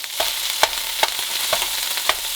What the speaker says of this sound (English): I missed a shot of me throwing in the meat, but here it is.